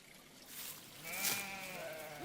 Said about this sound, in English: Sheep have always been the cornerstone of Icelandic farming.